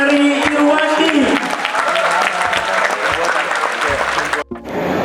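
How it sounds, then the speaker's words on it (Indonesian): Loud, dense applause from a large campus audience at ITB Bandung, welcoming a speaker, with a voice speaking over the start, then cutting off abruptly near the end. "lagi beri tepuk tangan yang meriah untuk Ferry Irwandi"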